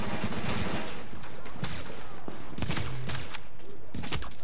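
Gunfire in the video game The Division, dense bursts of rapid shots and crackling fire running throughout, loud and close, with a little game noise mixed in.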